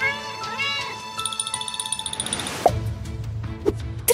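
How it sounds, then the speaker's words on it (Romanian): Several kittens meow in high, repeated, overlapping cries, close and fairly loud, followed by a few sharp knocks and clatters. "Sunt niște pisicuțe,"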